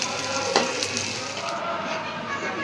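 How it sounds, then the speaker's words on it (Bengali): Onions frying in a home kitchen pan after fish, a steady loud sizzle throughout with a brief stirring clatter, no talk. "এখন হচ্ছে এখানে একটু পেঁয়াজ ভেজে নিচ্ছি মাছের উপর দেওয়ার জন্য।"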